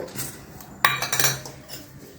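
Chopped onion, tomato, fried peanuts, chilli powder and salt are mixed in a bowl for muri mixture. A spoon clanks and scrapes against the bowl in a few close, rattling strokes.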